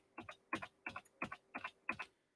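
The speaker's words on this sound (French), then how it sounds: "il suffit d'appuyer sur la touche R du clavier d'ordinateur pour avoir des notes identiques" A single computer keyboard key pressed repeatedly in notation software, six paired clicks arriving at a steady rhythm, close and crisp, each press followed by a quick release click, with no talking.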